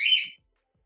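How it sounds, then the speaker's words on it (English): Pet birds give a brief burst of high chirping and squawking indoors, loud for about a third of a second and then falling silent. "Can you guys hear my birds?"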